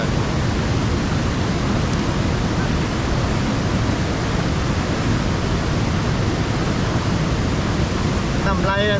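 Water pours steadily at a waterfall as a dense, loud, unbroken rush, with a brief faint voice near the end.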